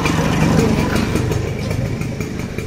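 A scooter engine idles close by with a steady, low rumbling putter that holds an even level for the full few seconds, with no voices over it.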